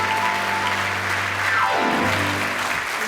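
A gala dinner audience applauds a singer in a steady, dense wash of clapping, while a descending sustained musical tone sweeps underneath.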